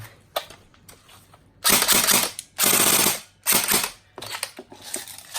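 Bursts of rapid mechanical clicking fire in several short volleys from an E&C 331 Gen2 airsoft gun shooting automatic, with quieter clicks and handling noise between them.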